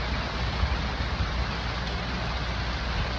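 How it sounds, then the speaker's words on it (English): Steady rain falling outdoors at an airfield, a constant soft hiss of drops with no voices, faint and even throughout. "It's raining."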